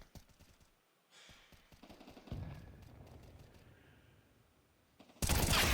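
Counter-Strike gunfire during a pro match, with quick clustered shots in the first seconds, a heavier burst around the middle that fades out, then a loud, dense blast of firing at the very end.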